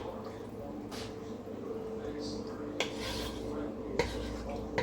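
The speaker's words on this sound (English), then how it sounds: "I'm going to stir this around." A spoon scrapes and knocks around a pot of rice and water for jambalaya, with soft swirling and a few sharp clinks against the metal, while someone talks in the kitchen.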